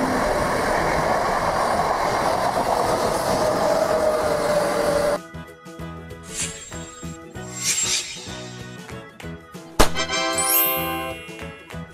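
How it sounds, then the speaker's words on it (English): A Spanish high-speed train passes at 310 km/h, a loud, close rushing roar with a rising whine that lasts about five seconds before giving way to music. "This is Spain's premier high-speed train service, linking major cities with remarkable speed."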